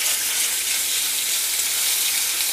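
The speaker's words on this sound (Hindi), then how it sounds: "इसे हम इसे थोड़ा सा फ्राई कर लेते हैं" Chicken pieces fry in two tablespoons of oil in a pan, giving a steady, dense, close sizzle that holds evenly throughout with no voices.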